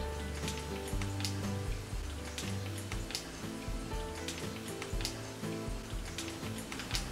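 Kashmiri red chili paste hits lightly fried potatoes in a pan, giving a steady, dense sizzle and crackle throughout, with bursts of spattering and a few faint clinks, and no one talking.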